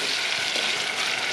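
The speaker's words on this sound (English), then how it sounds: "You can hear the sizzling." Steady, crackling sizzle of food frying in a hot pan, close and continuous.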